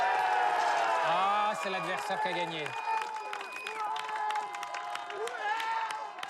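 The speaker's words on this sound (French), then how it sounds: "On peut l'applaudir!" A crowd applauds and cheers at a spectacle, scattered claps and shouts running steadily under close voices talking over the noise.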